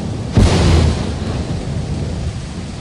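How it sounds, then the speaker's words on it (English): A thunderclap in the Lethal Company video game hits with a sudden loud crack, then rolls into a long low rumble that fades slowly under steady rain. "I think I saw thunder."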